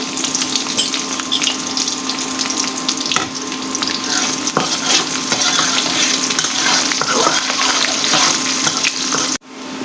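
Chopped onion and garlic sizzle steadily in hot oil, a loud continuous crackle close by, ending with a brief clatter.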